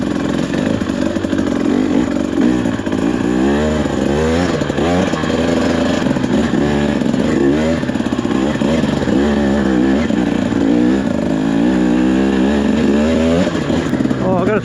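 A brand-new 2024 Husqvarna TE300 dirt bike engine revs up and down on a trail ride, loud and close with rising and falling pitch, while a rider talks over it.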